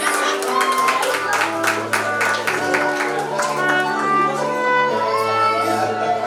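Wedding reception guests applaud the parents of the bride and groom, a burst of crowd clapping in the first couple of seconds that blends into steady music with sustained tones carrying on underneath.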